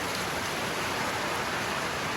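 Steady rain hisses down in a dense, even wash of noise at rice-harvest time in rural Thailand, with no individual drops standing out and no voices over it.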